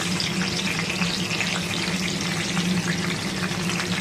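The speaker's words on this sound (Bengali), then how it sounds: "এখন আমি এর মধ্যে দিয়ে দিচ্ছি কুচনো পেঁয়াজ" Chopped onion dropped into hot refined oil already holding bay leaf, cardamom, cinnamon and clove, giving a steady, loud, close sizzle and crackle that runs unbroken the whole time, with no talking.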